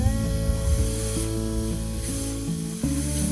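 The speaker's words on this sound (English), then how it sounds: "I could hear the air coming out." Air hisses steadily out of a punctured tire, a continuous close spraying sound with a faint tonal hum alongside.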